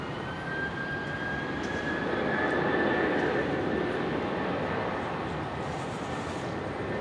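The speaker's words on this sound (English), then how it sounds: "Jetstar 321 Neo just at the bottom of the frame there, taxiing on up from the international terminal" A Jetstar A321neo jet airliner taxis at Brisbane airport, a steady broad engine roar with a faint whine that holds at one level throughout, swelling slightly in the middle, with no voices.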